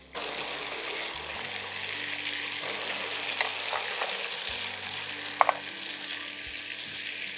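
Boiled onion paste sautéing in oil in a pan for a hilsa fish dish, a steady close sizzle with a couple of faint clinks, low hum beneath, no one speaking.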